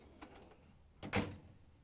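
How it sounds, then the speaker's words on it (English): A Whirlpool/KitchenAid/Maytag microwave door shuts with a single soft thunk, preceded by a few faint light taps. "And now we can close the door"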